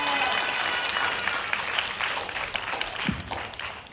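Audience applause at a 2019 business model research presentation contest after a talk on Kellogg, steady dense clapping filling the room for the whole stretch, with a few louder individual claps near the end.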